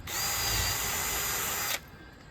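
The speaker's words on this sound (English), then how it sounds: "I always drill a pilot hole" A power drill whirs steadily at high speed for under two seconds drilling a pilot hole in wood for a soffit bird box, then stops abruptly, close and loud.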